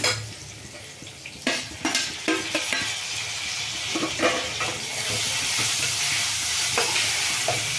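Brinjal and tomato pieces frying in a pan for brinjal palya, with a steady close sizzle and intermittent scraping and clinking of a spoon against the pan as the vegetables are stirred; no one speaks.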